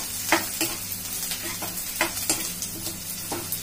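Rice, garlic and vegetables are stir-fried in a pan for Ching's Schezwan fried rice. A spatula scrapes in a steady rhythm of about three strokes a second over a continuous sizzle, close up with no talk.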